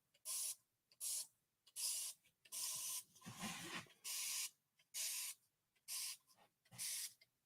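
Nine or so sharp bursts from a hand spray bottle mist freshly grouted rows, each hiss lasting about half a second with brief pauses between, close and clear, plus one rougher scraping pass in the middle.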